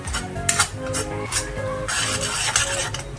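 Green masala paste frying in oil for chicken, stirred in a pan: scraping, clattering strokes and a soft sizzle, close and continuous, with no talking.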